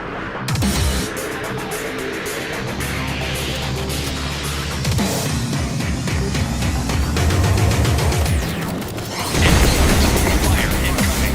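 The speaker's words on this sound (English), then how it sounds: "Enemy airstrike approaching." An enemy airstrike in the video game World War 3 fills the air with a loud, continuous roar of deep booms and blasts, its rumble swelling and crashing in waves, with a heavier burst near the end.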